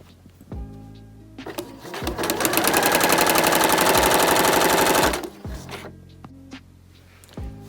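A sewing machine stitches a seam about a quarter inch from the edge of a fabric medical-style mask, running in a loud, fast burst for about three seconds between softer clicks and handling noises.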